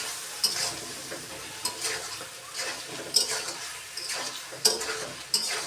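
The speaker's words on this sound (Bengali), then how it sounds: "এই যে মশলাটাকে সুন্দর করে কষিয়ে নেব।" Spice paste with salt and a pinch of chili powder is stirred and sautéed in a pan for a bottle gourd and hilsa fish head dish, giving a steady close sizzle with repeated spatula scrapes and sharp metallic clinks against the pan.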